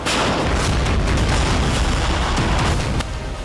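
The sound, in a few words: mortar fire, Russian mortars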